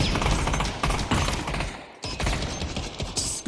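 Rapid automatic gunfire in the VR shooter PavlovVR during a competitive bomb-site match, dense bursts of shots filling the mix nearly throughout with a brief gap near the middle.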